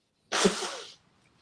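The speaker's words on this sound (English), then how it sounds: "Whoever will sneeze and bless you" A single sharp sneeze, close and loud, bursting out and fading within about half a second, followed by quiet.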